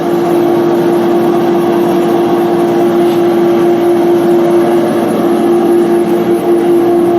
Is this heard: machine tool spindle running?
yes